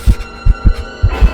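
A pounding heartbeat sound effect, six heavy low thumps in an uneven doubled rhythm, loud and close over a faint hum, with no voices.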